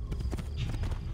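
Horse hooves clip-clop in the video game Assassin's Creed 2: several quick, close hoofbeats in an uneven trotting rhythm, with faint background noise.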